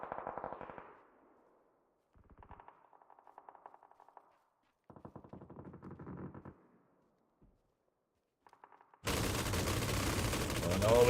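M249 light machine guns fire in a video game, with several separate rapid bursts and short pauses between them, then a dense, loud roar of sustained noise at the end.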